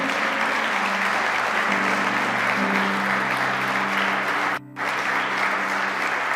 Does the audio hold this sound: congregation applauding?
yes